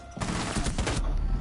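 Rainbow Six Siege video game gunfire, a dense cluster of shots rattling loudly for under a second, then trailing into quieter in-game ambience.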